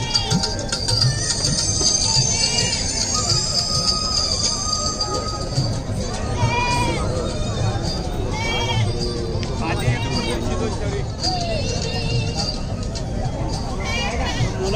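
Goats bleat repeatedly among a noisy crowd at an open-air goat market, the calls rising over constant chatter and haggling voices close by.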